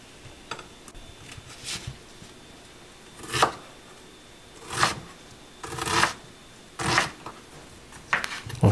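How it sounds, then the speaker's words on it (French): A knife dices half an onion on a board in short bursts of crisp, scraping strokes, separated by pauses, close and fairly loud with no voices. "on va utiliser un demi-oignon qu'on va couper en dés"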